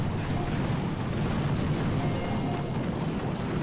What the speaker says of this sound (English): Barrages on the boom cannon.